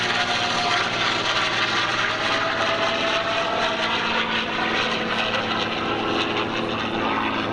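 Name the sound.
P-51 propeller warplane flying by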